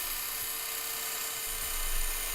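A bandsaw slowly slices a long wooden board on a sled carriage, giving a steady, close, droning whine that runs unbroken and swells slightly toward the end.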